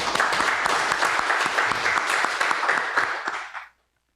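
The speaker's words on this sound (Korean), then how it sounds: "우리 네 분 모두에 대해서 박수를 한번 크게 보내드리겠습니다" Audience applause at an autumn academic conference of a Korean industrial labor society, honoring four panel speakers: dense, steady clapping from a crowd lasting about three and a half seconds before cutting off into silence.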